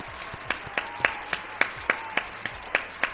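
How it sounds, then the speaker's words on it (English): Sparse applause on a game show welcoming a contestant, about a dozen sharp, evenly spaced claps spread over a few seconds, sounding like one or a few people clapping. "Let's welcome today's contestant with a round of applause"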